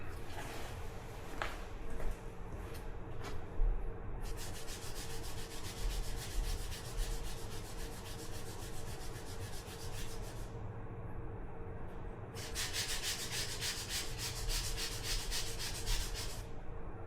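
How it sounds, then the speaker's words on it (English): Two long stretches of rhythmic back-and-forth sanding, a sanding block rasping against a hard 3D-printed plastic RC car part, separated by a short quiet pause with light handling sounds. "let me go over to the sanding block and take just a little bit of meat off of here"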